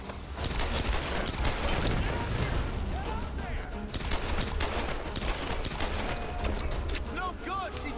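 Enemy gunfire in the Tomb Raider video game, rapid cracking shots and bursts from several weapons in a near-constant barrage, loud and close with sharp individual reports and clattering mechanical sounds mixed in.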